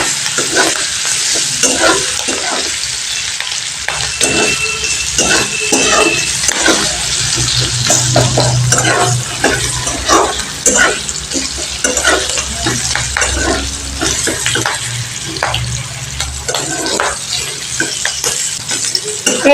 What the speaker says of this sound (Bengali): এবার ক্যাপসিকামটাকে আমি একটু ভালো করে ভেজে নেব।